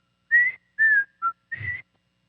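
A lone whistler carries a TV theme melody in four short clear phrases, with a brief pause between each, close and fairly loud with no talking.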